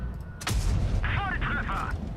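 A tank cannon shot in World of Tanks Blitz: one loud, sudden boom with a rumbling tail, followed by a short in-game voice callout over the lingering low rumble.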